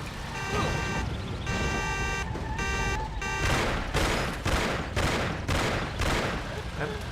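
Gunfire in the 2002 video game Mafia, a rapid run of loud, close shots that burst repeatedly over game music and engine noise, with someone talking at moments.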